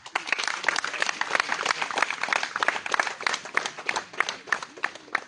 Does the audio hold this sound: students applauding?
yes